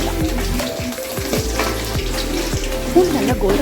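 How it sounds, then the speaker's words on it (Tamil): Chopped garlic fries in hot oil in a pan for Tamil-style vathal kuzhambu, giving a steady, dense sizzle throughout with occasional light stirring clinks, heard close up. "பூண்டு நல்லா கோல்டன் ப்ரௌன் கலரில் வதங்கணுங்க"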